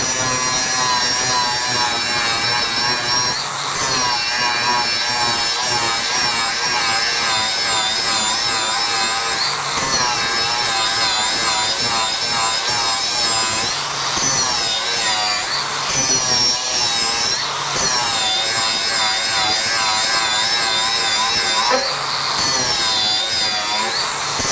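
A DeWalt DCG418 FlexVolt 4-1/2 to 6-inch cordless grinder cuts steadily, giving a loud, continuous high whine with a rough grinding edge and a few brief dips in pitch as it bites in.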